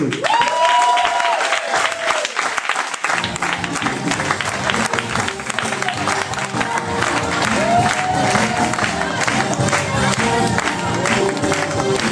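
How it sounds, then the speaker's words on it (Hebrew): An audience at a Purim show bursts into loud, sustained clapping and cheering. A microphone voice speaks briefly over it at the start, and the applause rolls on steadily to the end. "אני רוצה שתקבלו במחיאות כפיים סוערות"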